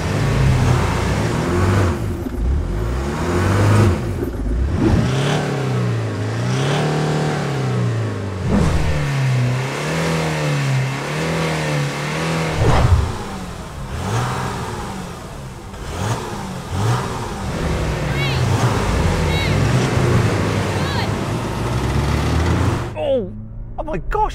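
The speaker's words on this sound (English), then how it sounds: "Oh my gosh, that Land Cruiser is off quick!" Several 4x4s, a Toyota Land Cruiser, a Land Rover Discovery V6, a VW Amarok and a Jeep, accelerate hard in a drag race, with loud engines revving and climbing through gears as voices talk excitedly over the noise.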